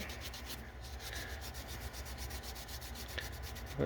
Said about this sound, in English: I'm going to take this denim and go along the edge. I'm just going to create some friction, rub it